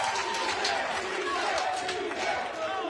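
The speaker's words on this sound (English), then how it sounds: "CJ is pumping up the crowd, and we have a CJ chant." At a pickleball tournament semifinal, a large crowd chants a player's name in a loud rhythmic roar that fills the venue, with shouting voices layered throughout.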